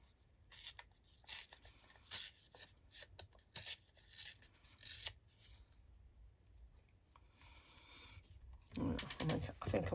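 Paper being torn by hand for a right royal journal, a few short dry ripping bursts close up, followed near the end by a louder, busier stretch of rustling and tearing.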